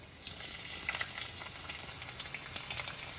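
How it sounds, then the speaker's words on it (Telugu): Garlic frying in hot oil with mustard seeds and cumin, a steady soft sizzle with scattered crackles and pops from the seeds, close and continuous with no talking. "వెల్లుల్లి కొద్దిగా వేగనివ్వాలి"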